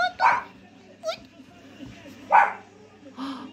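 A dog barks in short bursts, three or four separate yaps spaced across a few seconds over a low background hum, fairly near and moderately loud.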